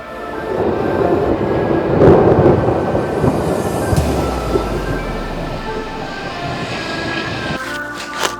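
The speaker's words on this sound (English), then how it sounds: "Another rumble thunder. There you go, that's a roll." Thunder rolls across the sky during a stormy UK carp-fishing session, a loud, deep, sustained rumble that swells and slowly fades over several seconds, heard outdoors with no speech.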